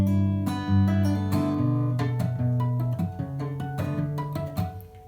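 Acoustic guitar playing a song part, with strums, quick bass notes plucked with the index finger and ringing chords in a steady rhythm, close and clear with no talking.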